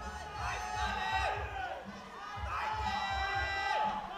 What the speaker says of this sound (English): getting huge support from the crowd